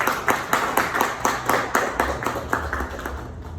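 Audience applause at a cultural management congress, with a few distinct, rhythmic claps standing out over a softer spread of hands, steady and close.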